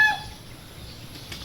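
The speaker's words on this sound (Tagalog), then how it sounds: "Ang alaga nilang manok dito." Pet chickens on a rural farm give a brief, faint cluck right at the start, then fade into a quiet outdoor background.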